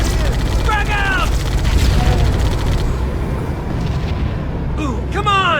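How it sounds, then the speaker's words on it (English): A frag grenade blast in the shooter Halo Combat Evolved, a loud booming burst that rolls through dense battle noise while voices shout over the fighting. "Frag out!"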